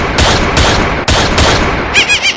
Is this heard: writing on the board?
no